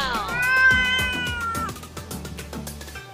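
A toy cat gives out a series of electronic meows with bouncy musical tones, close and clear, with no talking over it.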